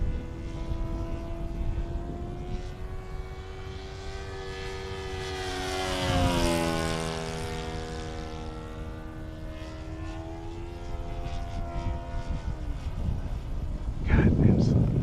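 A CMP PT-19 model airplane makes a high-speed pass, its propeller whine rising in pitch as it approaches and dropping as it passes overhead mid-clip, with outdoor wind noise and people talking nearby.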